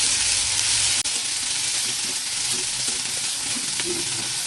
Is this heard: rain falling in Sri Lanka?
no